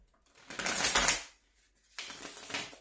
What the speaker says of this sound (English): I'll give it a couple more shuffles.